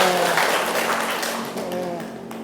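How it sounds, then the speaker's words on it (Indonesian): A class applauds Mbak Gelis in a lesson, a brief round of clapping that tapers off, with a voice talking over it. "Tepuk tangan untuk Mbak Gelis."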